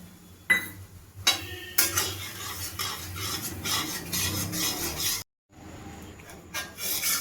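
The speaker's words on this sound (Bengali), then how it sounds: "এই বেসনটা আমি দিয়ে দেবো কড়াইয়ের মধ্যে।" Gram flour is stirred in ghee and oil in a wok, giving close scraping and rubbing strokes of a spoon against metal with soft sizzling underneath and a brief pause near the end.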